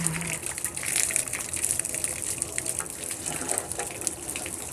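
Water is poured into a sensitive glass vessel, giving a steady close gushing splash with a light trickling hiss that runs the whole time.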